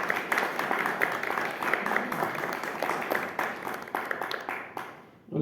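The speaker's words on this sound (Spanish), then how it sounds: "demos un fuerte aplauso al señor Víctor Gómez" An audience at a Spanish book publishing presentation applauds for Víctor Gómez, with dense, steady clapping from many people throughout that fades out near the end.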